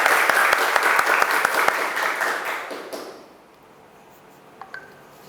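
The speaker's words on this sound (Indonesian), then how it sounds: "tepuk tangan untuk semuanya" A group of people applauds in a classroom, steady clapping that fades out after about three seconds into quiet room tone.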